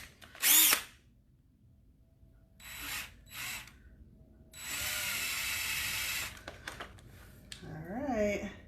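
A power drill whirs in short bursts while working on wood moulding, with a longer sustained run in the middle and brief trigger pulls around it, close and fairly loud.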